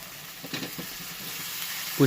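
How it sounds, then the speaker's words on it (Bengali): Whole boiled potatoes and green peas drop into a frying pan of spiced masala. A soft, low sizzle hisses throughout, with a few faint clinks and a dull thump at the end. "মটরশুঁটি দেওয়ার সাথে সাথে আমি দিয়ে দেবো গোটা সেদ্ধ করা আলুটা"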